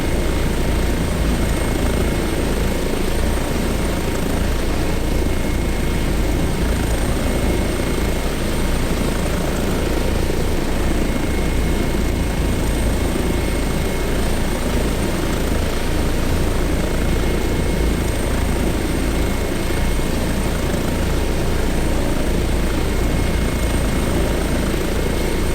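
Airbus H145 helicopter hovering in Microsoft Flight Simulator, a loud, constant rotor and turbine drone that stays steady and unbroken throughout.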